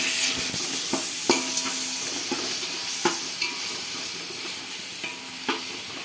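Ginger and garlic paste frying in oil in a pan while cooking prawn biryani, a continuous loud sizzle broken by sharp scraping clicks of a spoon stirring every second or so.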